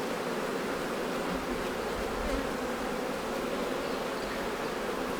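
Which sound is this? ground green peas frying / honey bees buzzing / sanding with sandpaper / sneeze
honey bees buzzing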